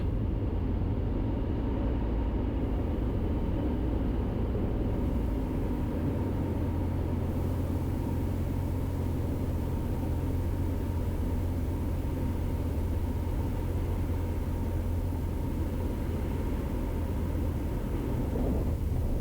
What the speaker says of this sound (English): That is a landing in the KFA Safari.